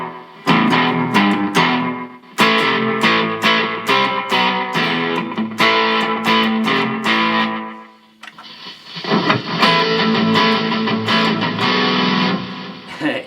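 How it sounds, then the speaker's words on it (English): Electric guitar played through a Boss GT-1 with slap-back echo, sharp strummed and picked chords, each one followed by a quick repeat. Near the end it shifts into a denser, sustained distorted passage. "super slow gear. Slap back echo."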